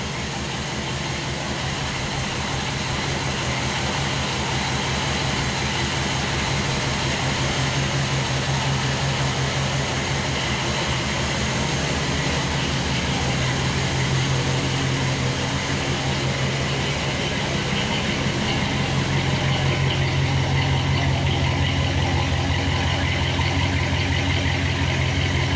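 A 1931 Ford rat rod's engine idles steadily with the choke off, a continuous close, loud low rumble that holds an even throb throughout with no voices.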